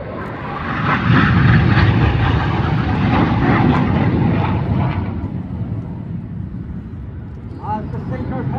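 Red Arrows jets turning hard in the Cyclone manoeuvre at an airshow make a loud, broad roar that slowly fades as they pull away, with a commentator talking over the noise.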